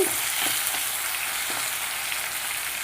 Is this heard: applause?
no